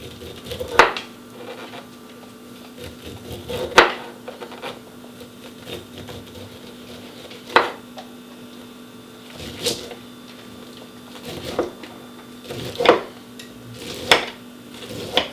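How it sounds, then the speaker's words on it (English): The back of a knife scrapes leftover corn kernels off a cob into a bundt pan, giving repeated short scraping strokes every second or two against a quiet kitchen background. "we're cutting or scraping the rest of what's left from the cob with the back side of the knife"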